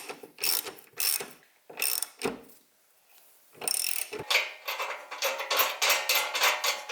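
Ratcheting a 1/2 inch bolt and lock nut onto the linkage plate of an Iron Cross Automotive stubby rear bumper, in several bursts of quick metallic clicking separated by short pauses and a few clanks.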